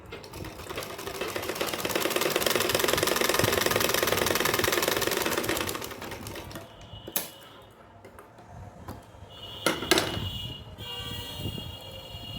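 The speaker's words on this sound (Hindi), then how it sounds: "तो देखिए थोड़ा कपड़ा छोड़ते हुए हम सिलाई लगा लेंगे लेस पर।" A sewing machine stitches lace onto a small doll dress, running steadily and loudly for about six seconds, then stopping and giving way to a few short clicks and brief bursts of stitching.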